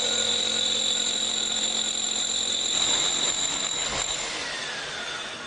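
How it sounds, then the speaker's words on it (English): A rotary hammer drill fitted with a coring bit grinds into a wall, giving a loud, steady, high-pitched whine with a harsh rasp that continues without a break and eases slightly toward the end. "we're going to use this rotary hammer drill with a coring bit to give us a nice clean hole."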